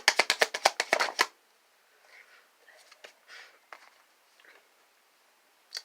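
Tarot cards shuffled in a rapid burst of crisp riffling flicks up close, followed by quieter scattered card handling and soft taps.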